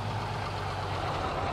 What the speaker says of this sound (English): There's a freaking truck there.